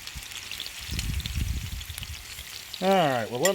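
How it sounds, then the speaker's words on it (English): Boneless pork chops sear in a hot cast iron pan, giving a steady crackling sizzle with low thuds, and a bright whistling tone rises briefly near the end. "all I'm doing right now is trying to get a good sear, a good crust on them"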